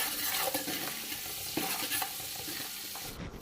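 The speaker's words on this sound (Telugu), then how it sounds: "ఈ పెద్ద ఉల్లిపాయలు అనేవి తొందరగా వేగి బ్రౌన్ కలర్లోకి అయితే వస్తాయండి" Sliced large onions fry in oil in a pan for chicken biryani, giving a close, steady sizzle with scraping stir strokes at irregular intervals and no talk.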